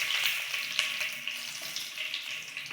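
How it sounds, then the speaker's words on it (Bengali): Two pieces of bay leaf crackle and sizzle in hot oil in a pan, a steady hissing fry with small popping spikes, close and moderately loud, no voices. "এই তেলে দিয়ে দেব 2 টুকরো তেজপাতা"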